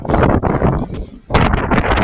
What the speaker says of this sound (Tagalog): Umuulan na pero traffic pa rin, oh. Grabe hangin.